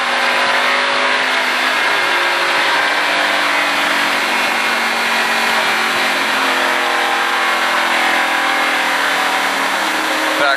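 A race car engine accelerating on an oval track during a Richard Petty driving experience, a loud, steady, high-pitched roar sustained throughout, with the throttle held open.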